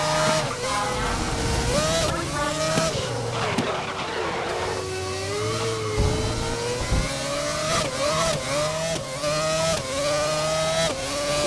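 An F1 car on a street circuit in GRID 2019 howls close by, its engine note climbing and dropping through gear changes. Brief tire squeals and other cars' engines sound beneath it.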